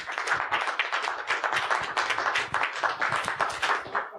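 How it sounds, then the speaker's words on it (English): A round of applause from a seated audience at a professional selling talk, a steady patter of many hands clapping at moderate volume with no speech over it. "And let's give Tom a great round of applause."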